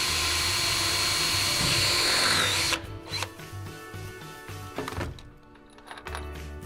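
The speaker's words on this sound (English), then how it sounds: "we're going to drill our mounting hole using the drill bit that's provided in the kit" A power drill bores a mounting hole into an elevator ceiling panel using a kit-supplied bit, a loud steady whine for nearly three seconds, then sputters into shorter bursts and clunks as it finishes.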